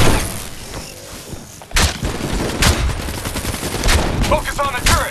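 Loud bursts of turret gunfire in the video game Call of Duty Black Ops 3, repeated volleys of rapid shots cutting through a noisy battle mix after a brief lull.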